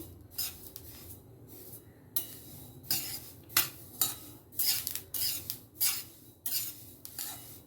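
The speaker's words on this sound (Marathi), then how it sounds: "चटचट चटचट आवाज येते आता ह्या पूर्ण खरपूस त्याला भाजून घेणार" Sesame seeds dry-roasting in a pan for tilgul give off faint, scattered crackles and pops, mixed with the scrape and clink of stirring against the pan, close and quiet.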